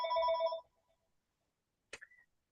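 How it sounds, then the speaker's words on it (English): A phone rings with a short electronic tone lasting about half a second, then silence and a brief rising chirp, heard quietly indoors with no one talking. "that's my phone ringing."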